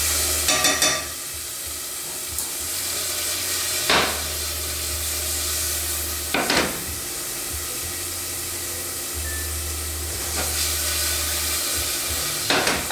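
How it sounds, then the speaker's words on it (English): Garlic and red pepper flakes sizzle in olive oil while being stirred, a steady close hiss broken by several sharp knocks and scrapes of a spoon against the pan, with a low hum underneath. "Give that a little stir."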